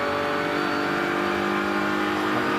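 A GT race car heard onboard at full throttle through a fast turn during an 8-hour endurance race at Indianapolis, its engine a loud, steady, sustained roar with no talk.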